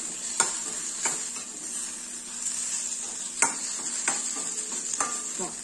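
A red chilli powder mixture for a satvik thali side dish stirred in a pan, soft continuous sizzle broken by several sharp spoon scrapes and clinks, close up and with no voices.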